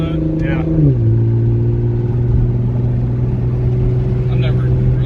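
An Alpha 9 Nissan GT-R with all-wheel drive pulls hard in a ride-along, its engine drone holding loud and steady from inside the cabin as the pitch drops after a shift, with voices in the car.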